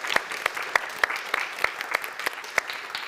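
A small seminar audience gives light applause, a thin scatter of individual claps in a loose, uneven rhythm, fairly soft and heard on its own.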